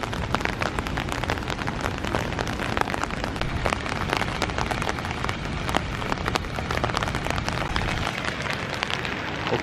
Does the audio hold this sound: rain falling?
yes